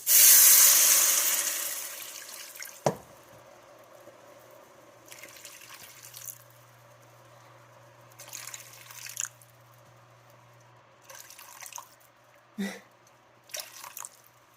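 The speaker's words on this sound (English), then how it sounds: "I've got 4 cups of broth here, but I'm going to only add in 2 for now" Broth poured from a container into a cooking pot in a kitchen, a loud rushing pour at first, then quieter intermittent splashes and drips with a sharp knock, close by and without talk.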